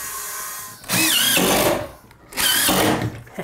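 A power drill drives screws into cement board during a bathroom build, two loud sustained whirring bursts with a brief pause between them and no talking.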